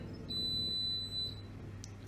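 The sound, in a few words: washing machine beeping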